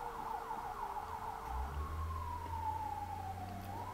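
Emergency sirens in the video game Rimworld wail with rising and falling sweeps that settle into a long gliding tone, over a low rumbling drone at moderate loudness.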